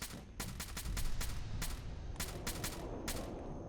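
Rapid gunshots in Fallout 4, fired at an unseen enemy near a glowing gulper: tight bursts of crisp, close shots in quick volleys over a low rumble.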